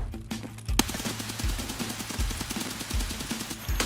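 Rapid automatic gunfire in a SWAT simulator video game, a rattling string of sharp shots in quick succession with a few heavier booms spaced about every three quarters of a second, loud and close throughout.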